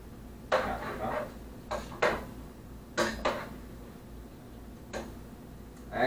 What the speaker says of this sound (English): We're going to use a clean spatula. Stir all this shit in.